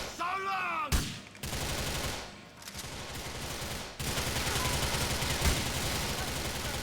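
Dense gunfire in Grand Theft Auto IV, sustained bursts of shots and a fusillade running almost continuously, loud and close, with a brief voice heard near the start.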